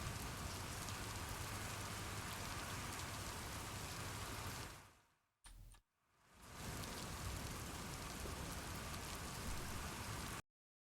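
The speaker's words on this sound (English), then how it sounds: "It's raining." Rain weather effect in a Godot game engine project: a steady hiss of falling rain that fades out briefly near the middle, blips back, then returns to full strength before cutting off abruptly at the end.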